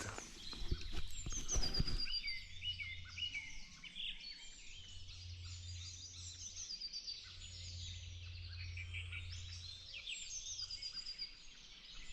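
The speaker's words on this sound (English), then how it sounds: "there's a heavy bird presence" Many birds sing and chirp in a shady cool morning outdoors, overlapping trills and calls that continue steadily, heard during a pause on an electric enduro bike ride after a brief louder rustle.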